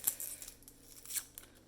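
Cosmetic cream packaging, a bronzing cream infused with pear and persimmon, being torn and crinkled open in a few quick, faint rustling bursts at close range.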